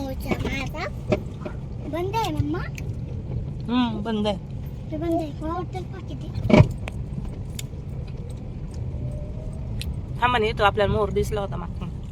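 A low, steady hum from a stopped vehicle's engine runs underneath as several people talk and exclaim over it, with a short clunk partway through.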